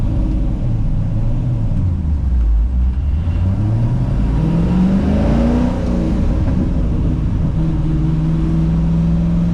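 LS3 V8 in a 1971 Ford F-100 restomod, a loud low engine rumble that rises and falls through revs, heard steadily from inside the cab, no voices.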